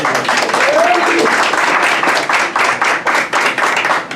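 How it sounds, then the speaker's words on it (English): An audience claps loudly and steadily, a dense patter of many hands that thins slightly toward the end, with a brief voice early on. "let's give Mojo's a round of applause"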